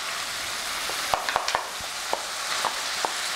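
Steady loud sizzle of meat sauce and sautéed onions frying in a pan, with scattered sharp taps and scrapes of stirring over the continuous hiss and no speech.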